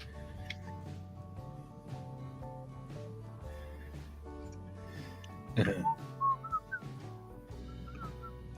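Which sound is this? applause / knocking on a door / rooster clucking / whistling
whistling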